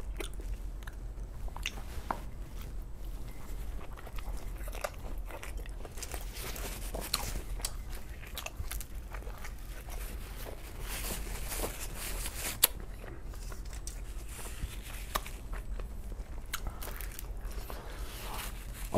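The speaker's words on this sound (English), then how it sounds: "I gotta go in for one more bite." Someone bites into and chews Chicago style pizza close to the microphone, with repeated soft crunches and wet mastication sounds throughout and no talking.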